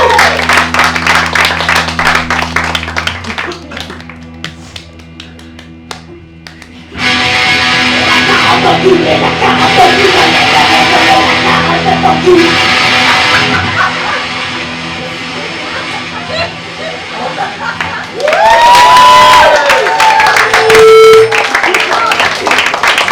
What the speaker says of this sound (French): on applaudit bien fort, c'est bravo